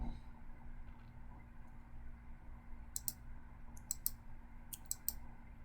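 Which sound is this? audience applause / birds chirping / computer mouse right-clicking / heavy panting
computer mouse right-clicking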